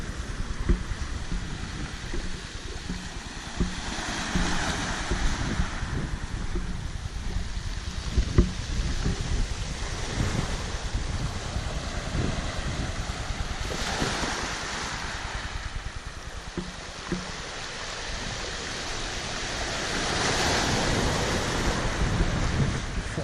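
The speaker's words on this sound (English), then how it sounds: "if the sound of these waves don't put me to sleep tonight" Sea waves break and wash up on a beach at a wild campsite in a steady, broad roar, with louder surges swelling every few seconds and wind noise mixed in; no one speaks.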